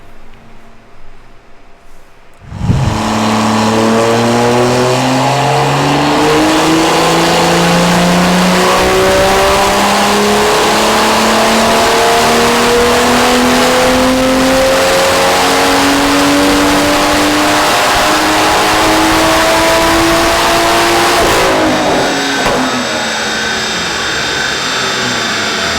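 A BMW M2 under ECU tuning on a dyno, the engine revving loud and close in one long sustained pull, its pitch climbing steadily for about twenty seconds before cutting off, with no talk over it.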